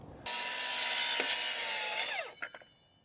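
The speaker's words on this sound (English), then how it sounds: "then I'm going to cut my piece." Saw cutting through a piece of timber for a rotten wooden window repair: one quick, steady rasping cut lasting about two seconds, close and clear, ending as the offcut drops with a few light knocks.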